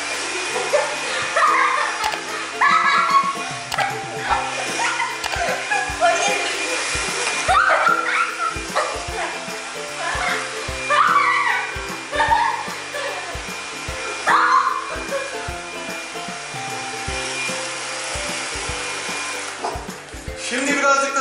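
A household vacuum cleaner runs loudly and steadily throughout while a dog barks repeatedly at it in short bursts, with people talking over the noise.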